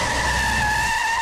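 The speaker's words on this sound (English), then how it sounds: "She's testing your brakes too." A car brakes hard on a road, its tires skidding with a loud, sustained squeal that holds steady throughout, close by and unbroken.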